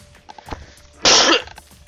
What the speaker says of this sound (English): Sorry again, I sneezed.